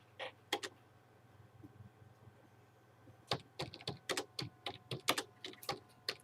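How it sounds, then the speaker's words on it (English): Keys on a computer keyboard are tapped in a quick, uneven run, close and fairly quiet, after a few isolated taps and a low steady hum. "I'm going to type in dope"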